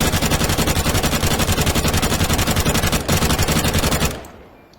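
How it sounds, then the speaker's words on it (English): A reworked FAMAS rifle in Counter-Strike 2 fires one long, loud, rapid automatic burst of evenly spaced shots for about four seconds, then cuts off and the sound trails away, with no voices. "One of the weapons that was remodeled and also had their sound reworked is FAMAS, which, as you can hear, it's different, and also the firing sound."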